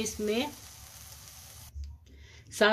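Chana dal halwa mixture sizzles and scrapes as it is stirred in a hot pan, a steady frying hiss with brief voice sounds at the start and end.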